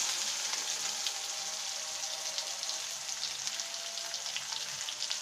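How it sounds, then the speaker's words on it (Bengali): Sliced local onions frying in hot oil with whole cumin seeds, a steady, bright sizzle with fine crackling pops throughout, close and constant with no voices. "এখন আমি আমার পেঁয়াজ দিয়ে দেবো"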